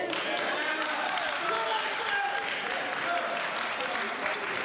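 Applause from a studio audience during a dating game show, a steady wash of clapping with chatter mixed in.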